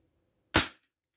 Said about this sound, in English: You're going to pull it back, lock it down, and we're ready to fire.